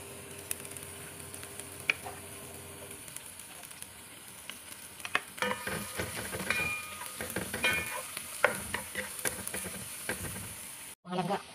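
Garlic and onion sautéing in a pan for a sardine and alugbati dish, with soft sizzling and scattered clinks and scrapes of stirring that grow busier partway through, close up.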